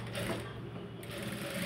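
A sewing machine stitches the front part of a blouse, giving a steady, close mechanical whir with a quick rhythmic needle chatter throughout.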